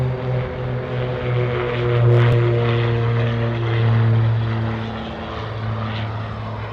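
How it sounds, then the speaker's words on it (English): A King Air turboprop takes off at Anchorage airport with a loud, sustained propeller drone and steady engine hum that swells slightly mid-way, heard without any talking. "All right, next takeoff. We got a King Air."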